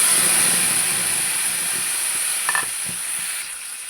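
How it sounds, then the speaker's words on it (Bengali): Chopped tomatoes sizzle in a hot pan for a tomato chutney, a loud steady hiss with a few soft stirring scrapes that fades slightly toward the end. "এবার আমি এর মধ্যে যে টমেটোগুলো কেটে রেখেছি এগুলো দিয়ে দেবো।"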